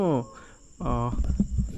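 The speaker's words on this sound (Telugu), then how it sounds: "వర్షానికి కప్పల్ సౌండ్ కూడా ఎక్కువ వస్తున్నాయి" Frogs croak in the rain in two bursts of deep, throaty calls over a constant high insect drone, with patter and other calls around them.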